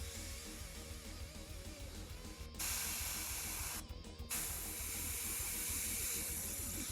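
An airbrush spraying only air to dry paint on miniature lava bases for Battletech, giving a steady close hiss that cuts out briefly twice and then resumes.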